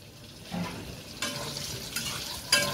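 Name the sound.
pointed gourd (potol) frying and being stirred in a pan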